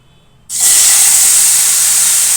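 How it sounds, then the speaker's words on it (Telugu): After a brief quiet moment, a sudden loud hiss erupts and holds steady as tomatoes hit a very hot oiled frying pan and sizzle continuously. "ఇప్పుడు సేమ్ ప్యాన్లో టమాటో అనేది వేపేసుకుందాం"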